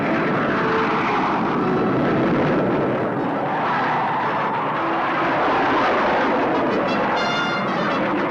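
A propeller aircraft takes off, its engine roaring loud and broadband for several seconds with a steady, close drone that slightly shifts in tone as it powers away.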